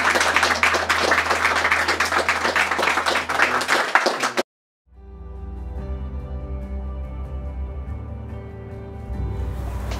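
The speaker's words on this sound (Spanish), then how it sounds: "Un aplauso para los mayordomos." Crowd clapping for the stewards at a traditional community celebration, a dense, loud burst of hands lasting about four seconds before it cuts off abruptly and quieter tonal sound follows.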